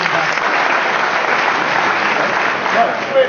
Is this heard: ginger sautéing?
no